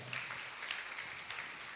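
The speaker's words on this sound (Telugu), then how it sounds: "చప్పట్లు కొడదాం." A church congregation clapping together during a Sunday worship service, a continuous dense patter of many hands, fairly faint and heard alone.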